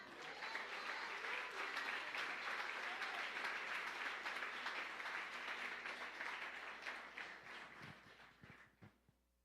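A church congregation applauds during a sermon, a broad, even wash of many hands clapping that holds steady, then thins into scattered claps and fades at the end.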